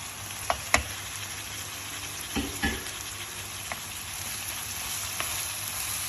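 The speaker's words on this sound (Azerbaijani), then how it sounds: "Biberlərimiz pişənə qədər yaxşı qovurulur." Bell peppers stir-frying for beef fajitas, with red beans going in: a steady hiss with a few sharp clicks of a utensil against the pan, alone and moderately loud.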